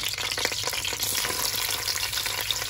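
Onion frying in palm oil for an okra and crab sauce, a loud continuous close sizzle with light stirring scrapes.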